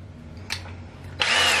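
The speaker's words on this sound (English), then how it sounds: "I'm going to drill 15mm-ish." A power drill gives a short whirring burst, pauses briefly, then spins up again into a loud, steady high-pitched whine.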